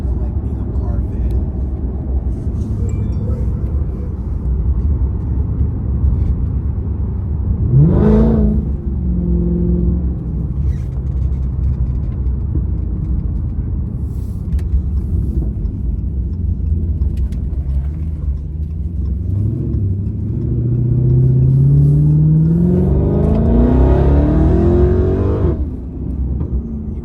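Dodge Charger Hellcat engine heard from inside the car, a steady low rumble with two rising revs, a short one and a longer climbing one near the end.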